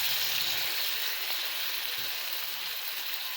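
Liver and onions stir-frying in a pan, a steady close hiss of sizzling fat that holds evenly throughout with no voices.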